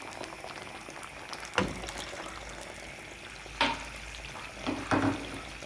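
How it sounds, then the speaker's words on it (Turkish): Two glasses of water added to fried tomato paste in a pan for a meatball sauce, simmering with a steady low bubbling hiss, broken by a few soft clinks and splashes, near and alone. "Salçamız biraz kızardıktan sonra 2 su bardağı su ekliyorum."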